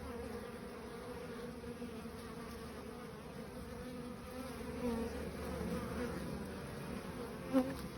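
Honey bees, Buckfast and Irish Black, buzz close around a beekeeper's face in a steady, droning hum that swells slightly near the end, with a brief sharp tap just before it stops; nobody speaks.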